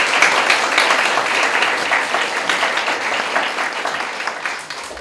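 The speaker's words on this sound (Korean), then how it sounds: "큰 박수." Sustained audience applause fills the space at a Korean high school alumni mentoring career lecture, steady dense clapping from a crowd welcoming former principals, holding fairly loud throughout before easing slightly at the end.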